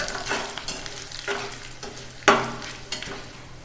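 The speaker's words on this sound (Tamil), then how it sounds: "இப்போ இதை நல்லா வறுத்து விட்டுருவோம்." Curry leaves and four chillies sizzle and pop in hot oil in a pan, with a steady crackling fry broken by a few sharper spatters and one loud burst near the middle.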